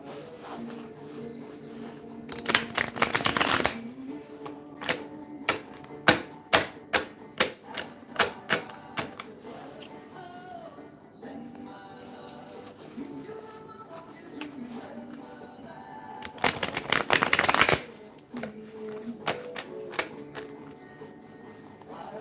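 A Spirit Halloween oracle card deck is shuffled close up: quick clicking taps between two louder, fluttering riffle bursts, with no one talking.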